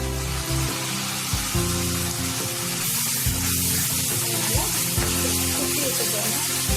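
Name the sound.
chopped tomatoes added to frying Chettinad chicken, sizzling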